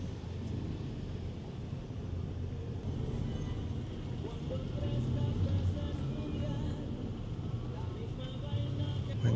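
Morning road traffic in Mexico rumbles as a steady low hum of car and bus engines, fairly loud and continuous, swelling slightly midway, with no clear voices on top.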